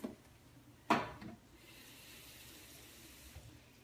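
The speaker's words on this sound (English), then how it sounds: "then I add a little bit of water in my pan" Water is poured into a baking pan holding food placed face down before it goes into an oven heating to 400. A sharp splash is followed by a short gush that quickly fades to low background hiss.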